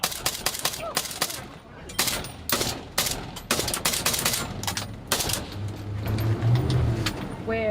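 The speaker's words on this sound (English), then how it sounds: "We're being shot at by a gang member from that direction" Rapid bursts of gunfire crack around a multinational police patrol of Kenyan and Jamaican officers under attack by gang members in Haiti: many sharp close shots in quick irregular clusters, with a low rumble and faint voices underneath.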